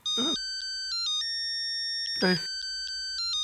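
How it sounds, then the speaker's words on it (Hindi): An electronic phone ringtone plays a repeating melodic pattern of tones, loud and close, with two short bursts of speech over it. "रोशन को याद किया, रोशन का फोन आ गया"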